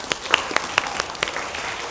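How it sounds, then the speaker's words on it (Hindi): Children in a rural village classroom clap, a handful of separate, uneven claps rather than a full round of applause, fairly close with a soft room background. "ताली आपने लिए।"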